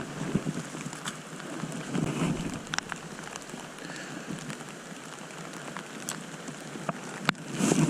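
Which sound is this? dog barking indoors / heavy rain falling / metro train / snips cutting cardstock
heavy rain falling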